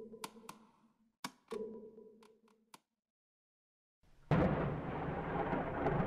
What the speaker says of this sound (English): Thunder rumbled across the plains.